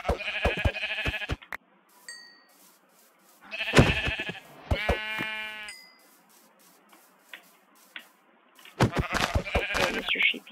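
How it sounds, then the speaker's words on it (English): Sheep bleating in the game Minecraft, several separate wavering bleats spaced apart with quiet gaps between, close and clear, each call ending abruptly. "Dude, there's tons of sheep here."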